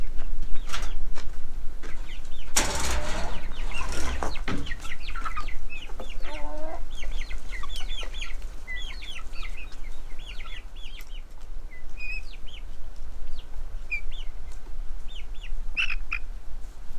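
Young Buff Orpington chicks cheep and cluck in a brooder, small high peeps repeating through steady background noise, with a few louder thumps and flutters early on.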